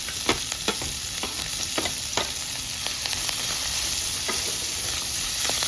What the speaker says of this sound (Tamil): பீன்ஸ் எல்லாம் கழுவி வச்சது தான் இதெல்லாம் போட போகிறோம். இது எண்ணெயிலே வேகணும்.